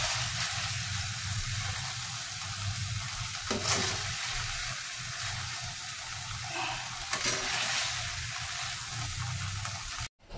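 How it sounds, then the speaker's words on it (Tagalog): Chicken meat for chicken salpica fries in a pan as its fat renders out, a steady, close sizzle with occasional stirring scrapes, stopping suddenly at the end. "Lutuin lang natin to hanggang sa magmantika yung karne"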